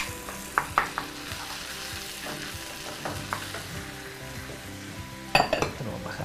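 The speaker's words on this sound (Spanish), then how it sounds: "pasamos directamente al sartén y lo agregamos" Stuffing mixture for Italian zucchini frying in a pan, a steady dense sizzle throughout with a few louder stir clicks and scrapes of the utensil against the pan, close and continuous with no talk.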